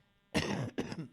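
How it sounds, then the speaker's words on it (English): One person coughs twice in close succession, near and loud, a rough throaty burst followed by a shorter second one, in a quiet room. "This cough is apparently going to be with me for the rest of my life."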